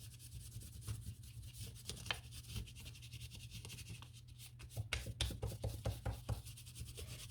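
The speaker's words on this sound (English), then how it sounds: "I'm going to rub over it with orange oil pastel or yellow" An orange oil pastel is rubbed over paper laid on a leaf, giving quiet, close, scratchy strokes repeated in an irregular back-and-forth rhythm.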